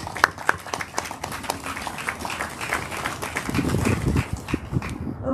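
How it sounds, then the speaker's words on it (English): Indoor audience at a community interfaith gathering applauding, a crowd of many hands clapping in a dense, uneven patter that swells toward the end. "A round of applause for them, please."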